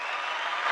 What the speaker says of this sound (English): there's an applause for you right there